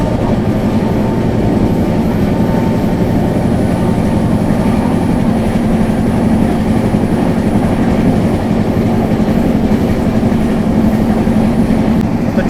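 The Uttar Sampark Kranti Express runs steadily on rails near Karnal station, a constant loud rumble with rattling wheel noise and no break for the full stretch.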